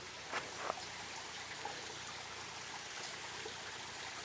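Distant waterfall rushing through deep woods, a steady broadband wash of falling water with no break, soft and far off, with a few faint rustles near the start.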